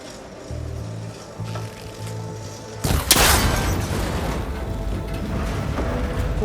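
A shot strikes a cable connector in Horizon Forbidden West, a sudden loud crack and burst about halfway through, over low mechanical rumble and a steady ambient bed.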